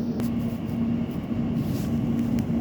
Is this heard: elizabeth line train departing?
yes